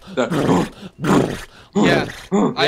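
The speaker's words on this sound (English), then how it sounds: "The horse, whenever you're fucking trotting, you're trying to get some good speed, it's making that fucking heavy breathing noise." Four heavy, groaning breaths from a trotting horse in a video game, in a steady rhythm, loud and close, each a rough rasping huff with short pauses between.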